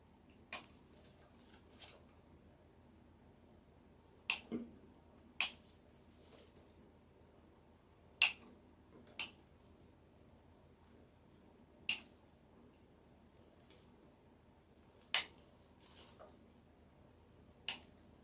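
Scissors cut pieces of deco mesh for a fall pumpkin wreath, producing sparse sharp snips scattered irregularly over a quiet background, about a dozen crisp close cuts with pauses between them.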